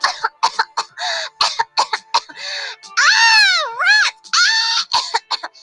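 A storyteller's voice acts out an ogress coughing, with a drawn-out, wailing moan in the middle, a theatrical imitation rather than a real cough.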